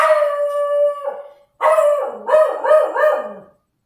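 A dog howls up close, one long sustained howl followed by a wavering, broken series of rising and falling howls, loud and alone with no talk.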